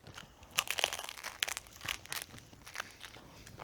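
Crisp crunching and crackling bursts, close up and irregular, of someone biting into the crunchy pastry shell of a strawberry cream cheese roll-up, with no talking.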